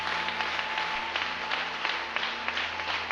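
A church congregation claps in praise during a Sunday worship service, a fairly quiet, steady patter of many hands with a faint continuous tone running underneath.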